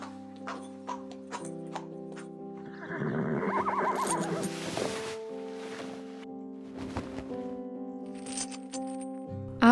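Hungry horses in a barn at night feeding time neigh and whinny, a loud burst of calls in the middle over steady humming barn background with scattered clinks and rattles.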